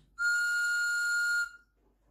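A whistle lollipop gives one loud, steady, high-pitched toot lasting just over a second, followed by quiet.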